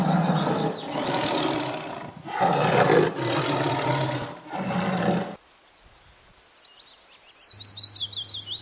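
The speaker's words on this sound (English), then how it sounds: "T for tiger." A tiger gives several loud, drawn-out roars in close succession, followed by a brief quiet and then a run of short, rapid chirping calls.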